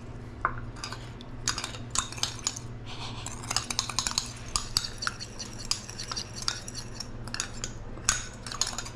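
A spoon stirs sesame oil and sesame seeds into a sauce in a bowl, with repeated light clinks and scrapes against the dish in an irregular rhythm, close and fairly quiet.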